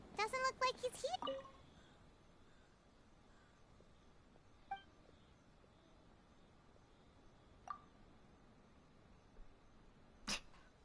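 A person playing Genshin Impact imitates a cat's meow in one short, voiced, wavering burst at the start, followed by near silence with a few faint clicks.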